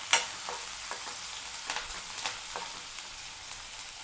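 Onion sautéing in a pan for a veg frankie, a steady soft sizzle with occasional stirring scrapes and taps, fairly quiet and close with no talking.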